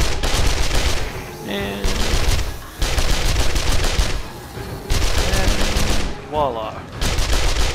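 SMG fire from the video game 7 Days to Die, long rapid automatic bursts separated by short gaps, loud and close, with someone talking briefly between bursts.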